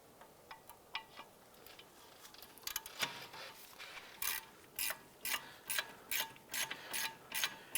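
A ratchet wrench clicks rapidly as a 15mm lower caliper bolt is loosened on a 2006-2011 Cadillac DTS, starting with faint sparse ticks and building into loud, evenly spaced ratcheting bursts nearby.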